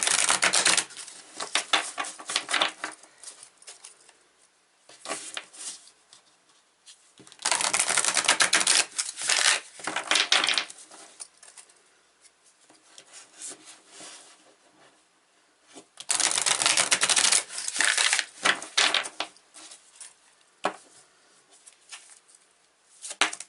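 Tarot cards being shuffled in three separate bursts of quick riffling and slapping, close and crisp, with quiet pauses between them.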